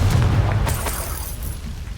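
Confringo spell blast in Hogwarts Legacy: a loud, deep booming explosion with a sharp burst at the start and crackling debris that rolls and fades over about two seconds.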